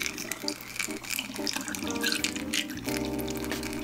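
Spent E-6 color reversal photo chemistry from a three-bath kit pours through a funnel into a bottle, a steady close trickle that bubbles and foams up, running unbroken with a low hum underneath.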